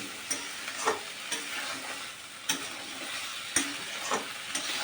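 Diced potato and pointed gourd sautéing in a hot pan, a steady close sizzle broken by regular scraping stirs of a spatula about once a second.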